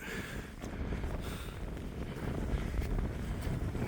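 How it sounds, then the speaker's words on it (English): Strong wind on Conic Hill, Scotland, roars and buffets the microphone in steady gusts, a constant low rumble with no voices. "Bit windy, isn't it?"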